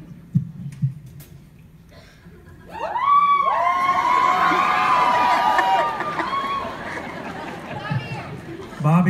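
A concert crowd in Sacramento erupts in loud, sustained screaming and cheering for several seconds, following brief talk, then fades back toward murmuring voices.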